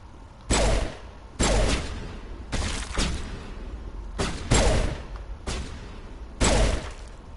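Heavy video game gunfire with high explosive rounds in Mass Effect: six loud, separate bursts of booming shots spaced about a second apart, each with a short rumbling tail, and no talk.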